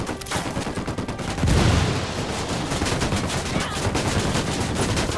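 Gunfire in Ghost Recon Wildlands, dense rapid automatic bursts and overlapping shots in a sustained firefight, with a heavier blast partway through and voices mixed in.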